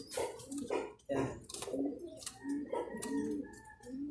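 Pigeons coo repeatedly in a loft with a Black Vandenbroek bird among them, soft throaty rolling calls overlapping in a steady run with faint chirps mixed in.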